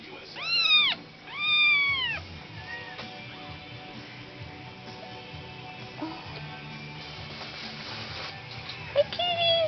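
Kittens from a litter of five mew in several loud, rising cries near the start, with fainter squeaks later, while people talk quietly in the background.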